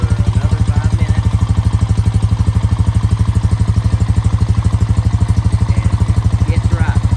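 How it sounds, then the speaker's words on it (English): A Honda Rancher 350 ATV engine idles after an oil change, a loud, steady, close putter with an even rhythmic pulse that holds unchanged throughout. "And now, we let it sit and idle for another 5 minutes."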